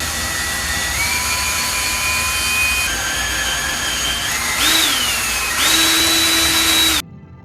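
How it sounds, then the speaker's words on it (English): A drill press whines steadily while drilling wood, its pitch shifting up as the motor speeds and settles, then cuts off abruptly near the end; loud and close. "drill press will be good about now."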